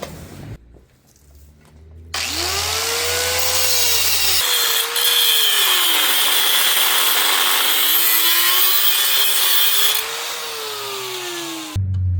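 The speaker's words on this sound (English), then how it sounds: "I'm gonna take my cutoff wheel and just try to cut it" A cutoff wheel grinds through metal on a 1973 Buick 455 engine: a loud, continuous high-pitched shriek with a wavering whine that rises and dips, starting suddenly and running for about ten seconds before cutting out.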